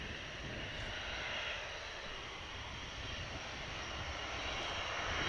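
Aircraft engines roar at RAF Marham in a continuous, broad rushing drone that holds steady throughout, sounding fairly distant and even, with no talk.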